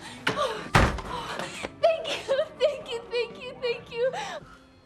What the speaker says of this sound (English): He's minding his business when he hears a woman banging at his door calling for help.